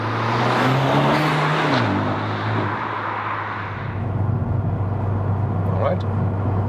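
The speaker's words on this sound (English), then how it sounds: "So we wait just a second, then we'll show you another acceleration." A 2016 Honda Civic Type R with a 310 hp engine accelerates on the Autobahn, revs climbing loudly, then dropping at a gear change before a steady road roar, with a voice faintly under it.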